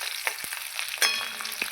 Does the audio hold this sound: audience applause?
no